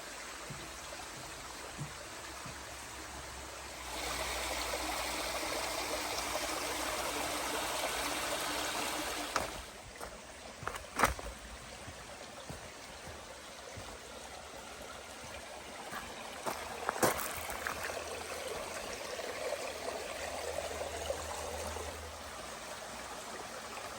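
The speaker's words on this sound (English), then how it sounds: "This is Window Falls here, Hanging Rock." Window Falls waterfall and its creek at Hanging Rock State Park, a steady broadband rush of falling and flowing water that swells louder midway, with a few sharp knocks and scuffs near the listener over the constant flow.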